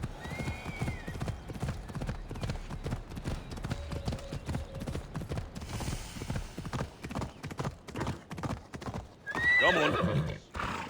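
A horse in the Assassin's Creed video game clip-clops steadily with its hooves and lets out a couple of sharp whinnies, near and clear, the hoof rhythm running nearly the whole time.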